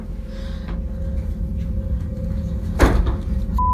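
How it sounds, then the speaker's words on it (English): An indoor door is shut once with a single dull thud late in the moment, heard against a steady low hum in an otherwise quiet room. "I've just shut door"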